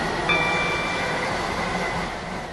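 Steady rumble of a moving train in the Roblox game Stepford County Railway, with a continuous rolling hum from inside the carriage and a brief high tone near the start. It sounds loud and constant.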